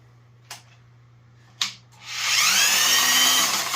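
Two sharp clicks, then a cordless drill spins up and runs steadily in forward, turning a drain auger, a whirring high whine that holds to the end.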